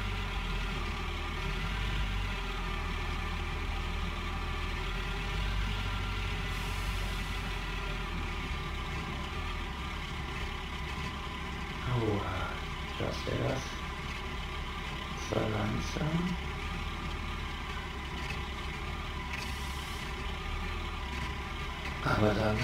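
A car engine idles steadily in the Gold Rush video game, a low continuous rumble under a voice talking, with a few brief louder bursts partway through.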